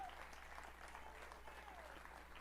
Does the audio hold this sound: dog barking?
no